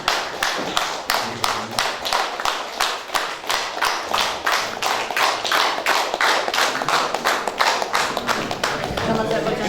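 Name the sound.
audience giving a standing ovation, applauding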